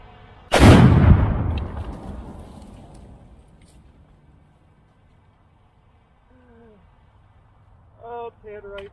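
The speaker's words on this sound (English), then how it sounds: "what I'm hoping from this next 6 pound is that it blows a lot of this top up and away" A 6-pound Tannerite charge detonates on a large old beaver dam, one huge close blast with a long rumbling decay fading over several seconds, followed later by brief faint bird-like calls.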